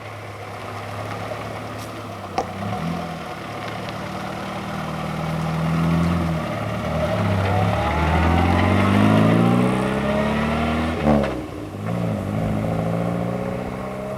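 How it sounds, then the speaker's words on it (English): Series 2 Morris Minor car engine idling, then revved a few times, with its low rumble rising and falling in pitch before settling back, heard alone without talk. "It's a Series 2 Morris Minor."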